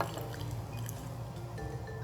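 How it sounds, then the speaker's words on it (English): Matcha drink being poured into a glass from an awkward angle, a steady close liquid pour with faint dripping and trickling that runs continuously for about two seconds with no talking. "This is such a bad angle for me to pour, but we're gonna try"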